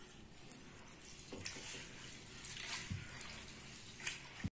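Soaked rice being washed in water for a sweet festival treat, with soft sloshing and trickling, a few sharper splashes and clinks near the middle and end, fairly quiet and close.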